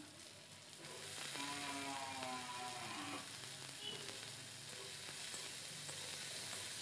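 Cut potatoes go into lightly fried onions in a hot pan. A steady close sizzle fills the whole stretch with faint stirring and a soft mechanical whir, and there is no talk.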